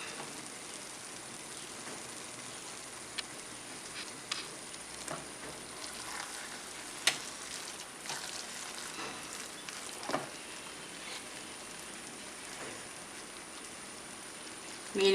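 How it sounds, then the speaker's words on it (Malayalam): Fried fish pieces being added into a pan of sizzling masala for a Malabar-style Thalassery fish biryani, giving a steady, moderately quiet frying hiss with scattered small pops and crackles throughout, no talking. "ഇനി ഇതിലേക്ക് വറുത്ത് വച്ചിരിക്കുന്ന മീൻ ചേർത്ത് കൊടുക്കാം."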